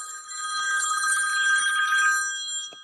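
A mobile phone rings indoors with a bright, steady electronic trill that holds for a few seconds, fairly loud and uninterrupted by talk.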